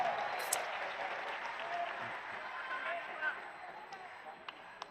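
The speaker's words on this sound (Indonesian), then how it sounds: "Boleh tepuk tangan buat semua yang hadir di sini." Faint, distant applause from a crowd of volunteers at an Indonesian political gathering, a soft, even patter heard from far back with a few sharper claps standing out.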